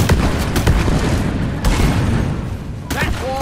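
A bomb detonates in the co-op mining shooter Deep Rock Galactic, booming and rumbling loudly amid dense gunfire and repeated percussive blasts over about three seconds, with no talk over it.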